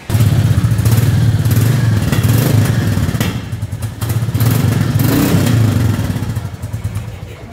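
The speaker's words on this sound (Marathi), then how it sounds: "तुम्हाला साऊंड पण तुम्हाला ऐकून येतो गाडीचा कसा आहे तो." A 2024 Royal Enfield Classic 350 with a chrome side silencer idles indoors in a showroom, its single-cylinder engine thumping in a loud, steady, echoing beat with slight rises and dips in revs.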